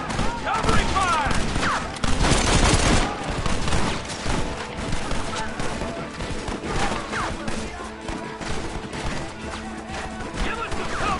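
Dense, continuous battle gunfire from the Red Dead video game, with many overlapping shots and crashes forming a loud, unbroken fusillade throughout.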